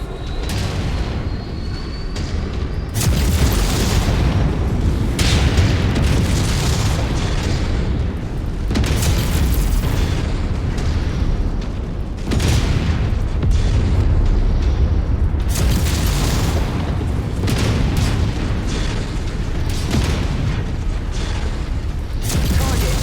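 Repeated heavy explosions and rumbling booms from a combat video game as a target is destroyed, loud and dense, overlapping in bursts with mechanical clanks, plus faint radio-style voices.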